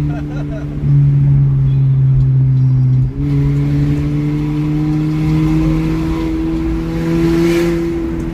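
A car fitted with a remote-controlled stainless steel 304 exhaust diffuser, loud steady engine drone rising in pitch as it revs close by, with people talking over it.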